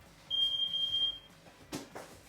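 An oven timer in a home kitchen gives one steady, piercing beep of about a second, fairly faint against quiet room noise, followed by soft rustling.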